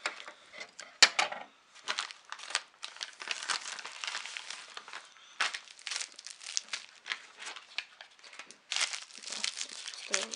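Plastic packaging of women's beaded bracelets being torn and opened, irregular close crinkling and rustling bursts with brief pauses, fairly quiet, no talking.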